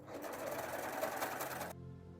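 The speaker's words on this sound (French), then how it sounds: "Et maintenant je vais juste placer mon tissu blanc qui est plié en deux sur l'ouverture de ma chaussette et maintenant je peux coudre tout le tour." Sewing machine running steadily as it stitches folded white fabric around the opening of a Christmas stocking, a close, even whirring hum that stops abruptly near the end.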